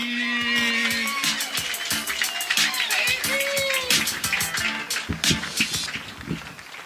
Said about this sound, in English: let's give a big round of applause for Will Halsey.